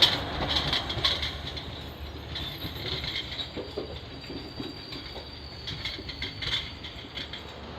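A Sangli–Parli DEMU train standing at platform 2 of Sangli station, with a steady rumbling idle and faint metallic clicks and squeaks throughout, no voices.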